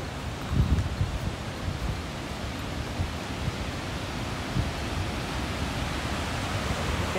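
Sunwapta Falls in Jasper National Park rushes with a broad, steady roar of falling water, constant and full with slight gusty swells, heard from nearby with no speech.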